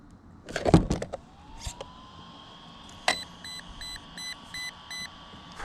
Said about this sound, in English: There's your 6 beeps.